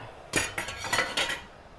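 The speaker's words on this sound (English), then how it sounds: "I'm going to put the lid on, and I'm going to bring that up to boiling." A metal lid is set onto a canning pot of dill relish, giving a few close, bright clinks and rattles over about a second, with no talking.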